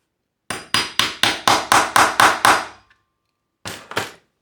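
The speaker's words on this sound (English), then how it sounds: "And hammer." Hammer blows on leather while assembling a wallet, nine quick, evenly spaced loud strikes in a steady rhythm, then a pause and two more hits, close and sharp with no talk.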